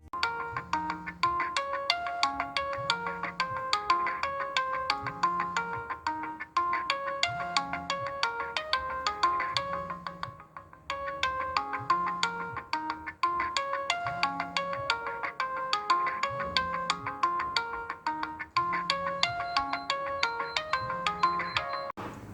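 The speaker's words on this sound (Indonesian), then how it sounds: "saat telepon berbunyi dari dalam toples dapat menggerakkan garam yang ada di atas balon" A melodic electronic phone ringtone plays from inside a jar, looping steadily for a long stretch, clear and continuous with a repeating tune and a short pause midway.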